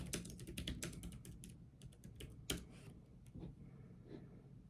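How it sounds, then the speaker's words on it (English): Someone types a search on a computer keyboard: quick, close key clicks in uneven bursts that thin out toward the end, quiet and alone. "I'm gonna type in who is Chris Bledsoe."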